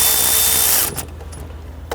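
A power tool on a 2008-2013 Infiniti G37 snugs down the upper bolt of a power steering pump: a loud whirring burst lasts just under a second, then stops, leaving faint clicks.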